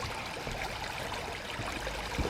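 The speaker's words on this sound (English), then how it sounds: "See, I can hear water." Water flows in a stream beside a trail on a quiet morning, a soft, steady trickling wash that stays faint and continuous throughout.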